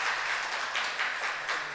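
A church congregation at Sunday mass claps in welcome, a brief, fairly close burst of many hands clapping together that swells and ebbs slightly.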